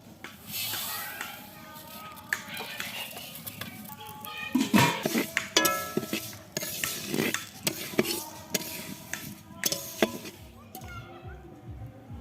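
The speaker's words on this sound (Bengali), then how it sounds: "মুগ ডালটা ভেজে নেব" Mung dal frying in a pan for khichuri, stirred with a utensil in repeated scraping strokes and clinks near the pan, with voices and background chatter around the cooking.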